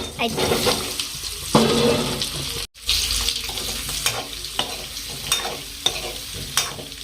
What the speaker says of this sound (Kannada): ನಾನೀಗ ಆಲೂಗಡ್ಡೆ ಹಾಕ್ತೀನಿ ಹ್ಮ್ ಸ್ವಲ್ಪ ಅದ್ರೊಳಗೆ ಫ್ರೈ ಮಾಡ್ಕೊಂಬಿಡೋಣ ಆಲೂಗಡ್ಡೆ